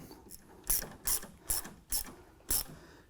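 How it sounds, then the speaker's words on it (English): A hand ratchet tightens a shoulder bolt while a Jeep soft top is being fitted. Five crisp, separate clicking bursts come close up and evenly spaced against a quiet background. "So now we're going to install the shoulder bolt."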